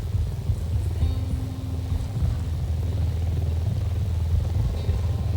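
Helicopter in a shooter video game, a steady low rotor rumble and drone holding throughout with no distinct approach or fade.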